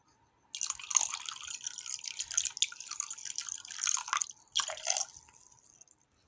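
Activator for homemade glue slime being poured in, a close, steady wet trickle with dripping and splashing that runs for several seconds, breaks off briefly, then resumes before fading.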